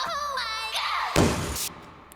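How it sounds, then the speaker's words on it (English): A loud, short explosion effect in a future bass build-up, a dense noise burst cutting in after pitched synth tones and ending abruptly before a faint tail. "Hear the super loud explosion right there?"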